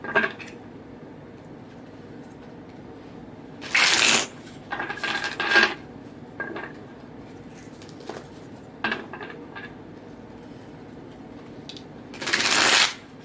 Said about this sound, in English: those are some good shuffles right there